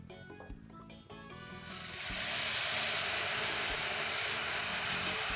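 Premade spice paste hits hot oil in a pan for a radish and tangra fish curry, setting off a loud, sustained sizzle that surges in after a couple of quiet seconds of light clinks and stays steady and close.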